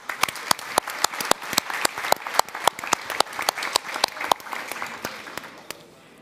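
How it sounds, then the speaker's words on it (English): At a youth conference, an audience claps in a short round of applause. Distinct, crisp claps ring out close by, loud and fairly sparse, as though from a modest group, and thin out toward the end. "So maybe let's give them a short round of applause."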